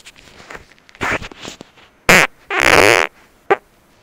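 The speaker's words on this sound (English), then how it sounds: "I gotta fart." A person breaks wind in a few short, loud raspy bursts, close to the microphone, with quieter rustling between them and no talking.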